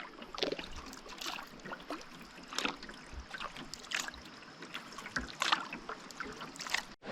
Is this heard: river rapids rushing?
yes